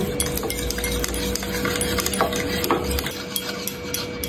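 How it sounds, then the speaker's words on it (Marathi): A whisk beats thick, fresh homemade curd in a bowl, giving fast irregular clinks and taps against the side over a steady background hum, close and busy for several seconds. "तर दहीला आपण इथं पिटून घ्यायचा"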